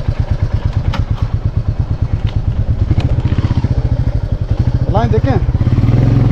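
A Royal Enfield motorcycle engine thumps loudly and steadily at close range, with a fast even beat that holds the whole time, while people talk over it.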